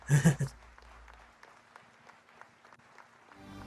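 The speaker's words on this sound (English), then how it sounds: "Not much clapping." A short burst of clapping at a Square Enix E3 2015 press conference, right at the start, stops quickly, leaving a quiet room with faint background murmur.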